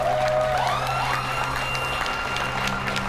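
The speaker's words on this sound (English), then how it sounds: "clap it up" Audience applause at a poetry showcase series anniversary event in New York City, a dense steady wash of clapping from a crowd that fills the room throughout, with a faint tonal hum underneath.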